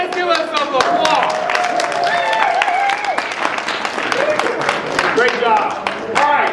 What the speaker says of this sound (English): let's give us some applause